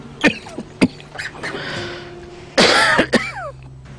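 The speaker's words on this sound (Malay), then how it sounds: "Dari tadi aku perasan dia batuk pelik tu." A man coughs in several harsh, separate bursts, then throat-clearing and a longer rough hacking fit near the end, close and loud against a quiet room.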